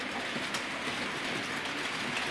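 A Bachmann Class 47 model locomotive runs over a tight radius 2 curve of model railway track, giving a steady, close, continuous rolling rumble and faint wheel clicks with no talking.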